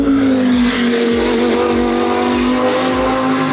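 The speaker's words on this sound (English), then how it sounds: "Sorry, I keep pausing because the cars are so damn loud" Race cars roar loudly around a track during an endurance race, a steady high engine whine punctuated by repeated close pass-bys.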